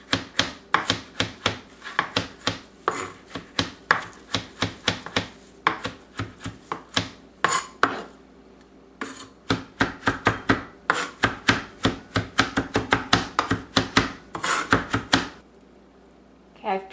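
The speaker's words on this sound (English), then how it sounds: "I'm just going to make small cubes" A knife chops peeled, still-hot cooked potatoes into small cubes on a board, a close run of rapid, sharp taps in bursts with brief pauses between.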